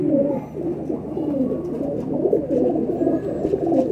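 Pigeons coo continuously at close range in a breeder's loft, a low, rolling chorus of overlapping throaty calls with no talk.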